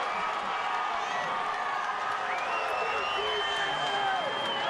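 A baseball stadium crowd at an Astros–Orioles game cheers in a broad, steady roar of voices, claps and whoops that fills the whole stretch without a break, with an announcer talking over it.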